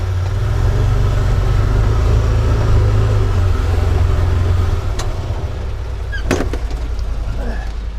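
A vintage farm tractor engine idles with a steady low rumble at an agricultural show, with a brief clunk partway through and faint voices in the background.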